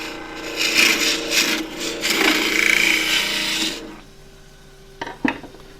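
A 1/2 inch spindle gouge cuts into scrap endgrain wood for a turned box on a lathe, giving a loud continuous rasping scrape that stops abruptly, followed by a couple of short knocks.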